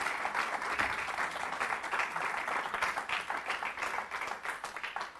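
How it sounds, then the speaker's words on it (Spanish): Steady, dense applause from a church congregation, sustained and fairly even throughout with no pauses, heard at a moderate distance. "Alguien dele un aplauso de verdad al Señor."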